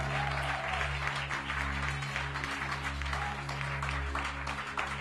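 A church congregation applauding during a service, dense continuous clapping mixed with a low musical drone underneath, fairly loud and sustained throughout.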